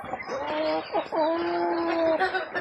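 Pullets about six months old give a few drawn-out, wavering clucks close by, with quieter bird chatter in the background.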